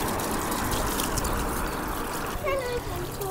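Water jets rising from a ground fountain in a German town centre where children play, making a steady close splashing and trickling wash; children's voices and nearby talk run over the water.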